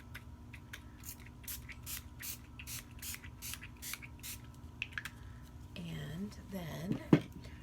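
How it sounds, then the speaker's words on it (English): A spray bottle of slate gray shimmer paint gives a quick series of about a dozen short, evenly spaced squirts, followed by softer rustling and handling noises. "And give it a couple of squirts of the slate gray shimmer spray."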